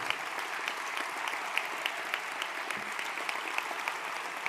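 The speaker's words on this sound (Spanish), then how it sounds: "Quiero pedir también un aplauso para los compañeros italianos." An audience at a Spanish political closing rally applauds Italian comrades, with sustained, dense clapping and crisp individual claps standing out, heard from within the hall.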